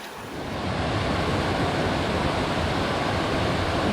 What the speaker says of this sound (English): This is another waterfall on the Great Gulf Trail.